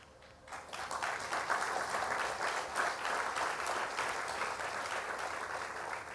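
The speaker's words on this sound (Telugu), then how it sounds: "మీరు చప్పట్లు కొట్టారు" An audience applauds at a church ministry talk. The clapping swells quickly after a quiet start, then holds as a steady, full round of applause.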